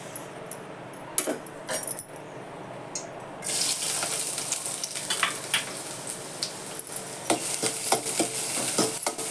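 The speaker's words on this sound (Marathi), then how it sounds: "शिमला मिरची गाजर कांदा थोडासा परतून घेते तेल घालते" Capsicum, carrot and onion go into hot oil in a pan after a few quiet clinks, and a loud bright sizzle starts partway through and keeps on with stirring scrapes and clatter.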